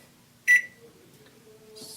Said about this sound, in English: put your clay in the microwave for 20 to 30 second intervals